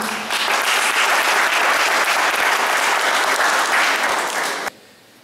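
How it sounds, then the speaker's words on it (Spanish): Applause from the congregation at a patronal feast mass in San Juan, honoring the mayor: a dense burst of clapping that holds steady for several seconds, then stops abruptly. "merece un aplauso al alcalde que tenemos aquí presente."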